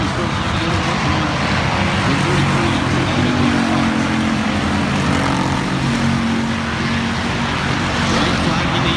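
Pure stock race cars roaring around the Salina Highbanks Speedway track in a last chance qualifier, a dense continuous engine drone from the field with crowd and announcer talk mixed underneath.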